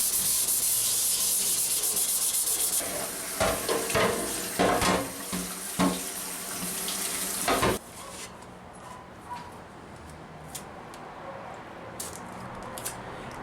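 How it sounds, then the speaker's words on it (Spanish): Continuous abrasive rubbing of wet sanding with water over a surface, steady for several seconds with a few scraping strokes, then fading to quiet background noise. "procedí a lijar en agua para un acabado más fino."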